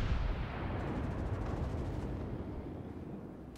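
Heavy naval gunfire in World of Warships around the battleship Nikolai I: a loud, deep boom at the start rolls into a long rumbling decay that slowly fades.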